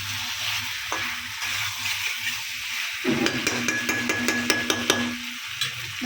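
Meat and cut trotters with chui jhal are stirred in a pan, a close spatula scraping and knocking against metal over a steady frying sizzle. The strokes grow busier and more rhythmic midway, with no talking.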